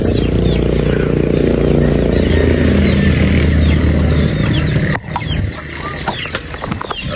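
Agitated pigeons being loaded near a motorcycle and truck, a loud dense mix of bird calls and rustling over a constant low engine rumble, with a brief dip before the commotion resumes.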